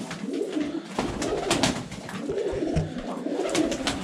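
Pigeons coo in a dovecote, repeated soft rolling coos close by, one after another in a steady rhythm, with light rustling between calls.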